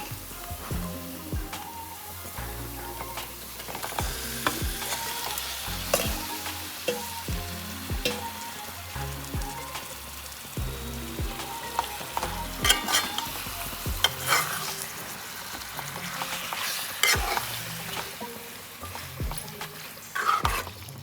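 Marinated chicken pieces fry in oil in a curry pan while being stirred, with a continuous sizzle broken by repeated scraping and clanking of the spoon against the pan, close and fairly loud throughout.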